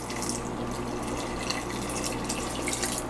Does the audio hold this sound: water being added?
yes